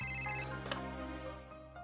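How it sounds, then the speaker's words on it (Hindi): A telephone rings with a steady electronic ringtone tone, sustained and fairly clear throughout, with no voices over it, in a Hindi-dubbed family film scene. "ये पक्का त्रिपुरा का ही फोन होगा।"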